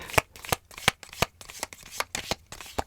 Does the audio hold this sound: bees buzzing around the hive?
no